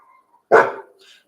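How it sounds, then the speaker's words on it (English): A Chihuahua gives a single sharp, loud bark that trails off quickly, close by, with quiet surroundings before and after. "Don't start barking."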